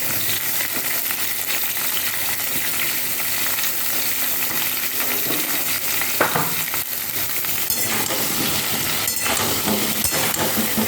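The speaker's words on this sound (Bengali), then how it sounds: "মাংসের আলুটাও কিন্তু লাল লাল করে ভাজা হয়ে গেছে।" Potatoes frying in a pan with salt and turmeric, making a steady, close, crackling sizzle with occasional utensil clinks and stirring, heard alone without talk.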